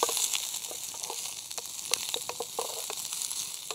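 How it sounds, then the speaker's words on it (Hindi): Onions fry in a pan at a campsite during a rainy group camping night, a steady close-up sizzle with crackles and pops breaking through it, no talking. "चलो प्याज तो फ्राई हो गए"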